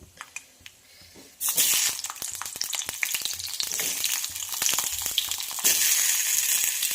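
Garlic cloves and two tomatoes frying in a kadhai, starting with a few light taps before a loud burst of sizzling, then steady close frying with crackles and stirring.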